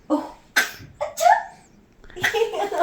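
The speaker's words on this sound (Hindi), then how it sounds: "खांसी लग गया भाई?" A few sharp coughs from a man burst out close by, spaced unevenly, followed by a short stretch of voiced sound.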